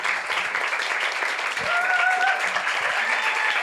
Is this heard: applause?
yes